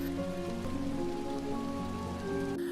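Heavy rain falls steadily in an animated film scene, a dense continuous patter with a soft tonal music bed beneath.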